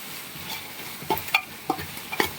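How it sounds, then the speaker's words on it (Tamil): Tomatoes and onions sauté in a pan for Hyderabad biryani, with a soft background sizzle and several sharp scraping stirs of a spoon against the pan, close by and without talk. "தக்காளி வெங்காயம் நல்லா வதங்கின உடனே"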